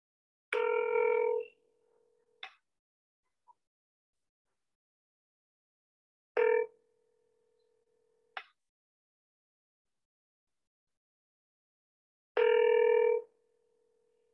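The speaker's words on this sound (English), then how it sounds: "And now I'm going to dial here." A phone call placed through a computer-linked phone system: three bursts of ringback tone at regular intervals, each followed by a sustained steady tone and brief clicks, with silence between them and no talking.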